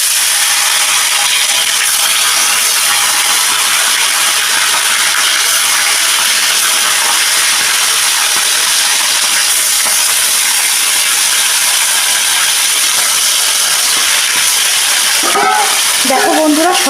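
Parshe fish frying in hot mustard oil, a loud continuous hissing sizzle held close for the whole stretch, with a brief voice near the end.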